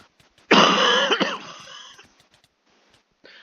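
One loud, harsh cough bursts out close by during a video game session, followed by a rough throat-clearing rasp that fades into quiet.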